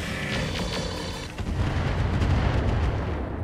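A video game airstrike sets off a heavy explosion, a sustained booming roar with deep rumbling that swells and lingers for several seconds, loud and close, with no speech.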